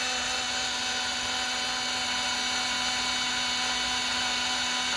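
A portable DDZ-08 electric juicer runs continuously on pulse with a steady, high-pitched whirring motor drone that is constant and close throughout, with no voices.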